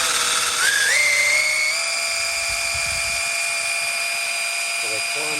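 A power drill spinning a car alternator at full speed gives a loud high-pitched whine that rises sharply in pitch at the start, then holds steady as a sustained tonal scream with faint clicks underneath.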